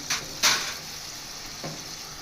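Ground onion and tomato paste fries in a pan, a soft steady sizzle broken by a couple of sharp spoon scrapes near the start and another stir later, no talking.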